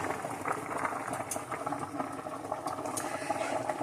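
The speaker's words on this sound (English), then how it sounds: "The noodles are boiling." Noodles at a rolling boil in a crowded stock pot, a steady dense bubbling and gurgling close by, with no voices over it.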